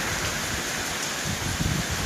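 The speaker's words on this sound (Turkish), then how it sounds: "atıştırmaya başlar yağmur" Steady, dense hiss of rain falling on a surface, continuous and fairly loud throughout with no voices.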